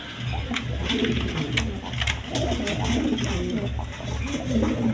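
Fancy pigeons coo repeatedly in low, throaty bursts, close by, with a steady murmur of other birds behind them.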